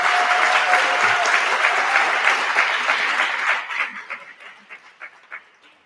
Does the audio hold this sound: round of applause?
yes